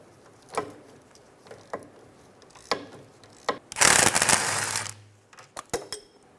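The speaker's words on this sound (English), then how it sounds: "Using a 19mm socket, we're going to remove the 2 caliper bracket bolts." A 19mm socket on a ratchet loosening the rear caliper bracket bolts on a 2007-2012 Nissan Altima: a run of sharp metallic clicks, then a fast burst of ratcheting, followed by a few more clicks, close and clear.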